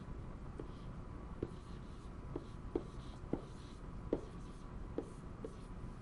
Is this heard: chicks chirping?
no